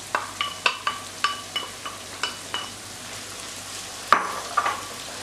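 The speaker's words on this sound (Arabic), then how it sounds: "بعد ما بداو كيتشحروا لنا المكونات اي البصلة والفلفل" Onion and peppers frying in a pan, a steady sizzle under a run of evenly spaced utensil clicks and stirring strokes, with a sharper knock near the end.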